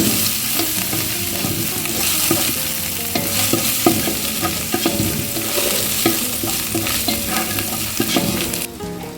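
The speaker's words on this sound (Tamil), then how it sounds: "புதினா போட்டு கொஞ்சம் வதங்கிடுச்சு" Mint leaves sautéing in a pan for mutton dum biryani sizzle loudly and steadily, with frequent clattering stir strokes of a spoon against the pan throughout.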